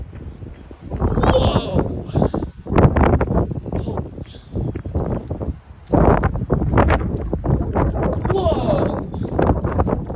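A high-wind storm in Lewis Center, Ohio roars in loud, buffeting gusts that rise and fall against the microphone, while a person exclaims over it.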